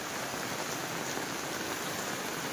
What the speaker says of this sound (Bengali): এই যে দেখো কি বৃষ্টি